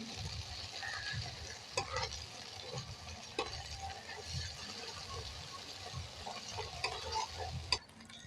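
A quiet, steady sizzle of onion frying in a pan with occasional stirring clicks, while a person speaks softly over it.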